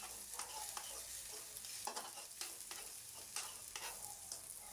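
Cantonese fried rice frying and being stirred in a pan, a steady sizzle broken by repeated scraping, tossing bursts at an even pace.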